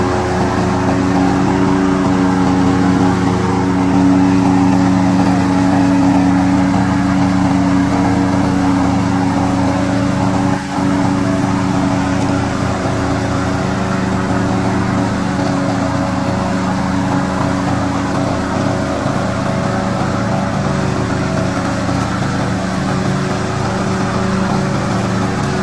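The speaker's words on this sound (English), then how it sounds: "Today, I'm going to introduce a remote controller mower." A remote-controlled hybrid lawn mower with adjustable cutting height runs with a steady, loud engine drone and a constant hum, unbroken for the whole stretch, with no voices.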